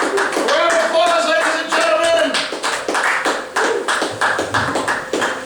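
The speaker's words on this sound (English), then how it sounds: "Round of applause" Audience at a live stage show clapping, a dense burst of applause that thins into scattered, uneven claps, with a voice speaking over it partway through.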